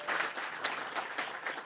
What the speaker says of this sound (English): Round of applause for all of our ambassadors that were able to make it,